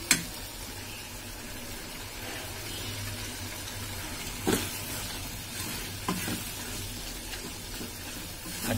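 Chilli paneer frying in a pan while being stirred, a quiet continuous sizzle with a few scraping spatula strokes and knocks spread across the stretch.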